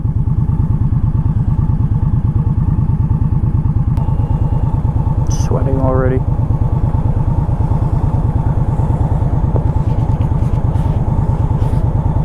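An Indian Scout motorcycle engine drones loudly and steadily at freeway speed with a rhythmic pulsing throb, wind rushing; a brief spoken remark and a passing whine midway.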